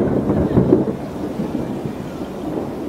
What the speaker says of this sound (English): And you could hear the thunder.